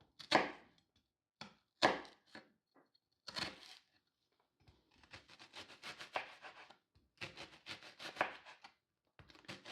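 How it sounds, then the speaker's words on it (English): Knife slicing an onion on a cutting board, a few distinct crisp cuts followed by a run of rapid rough scraping and crunching strokes, close and fairly quiet with pauses in between. "Go ahead and give our onion a nice slice down the middle"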